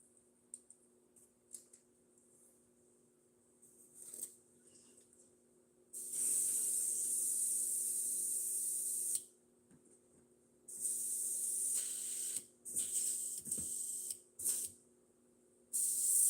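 An airbrush spraying Vallejo paint at about 15 psi on model tanks gives steady, loud hissing bursts of several seconds each, separated by short quiet gaps, with no talking.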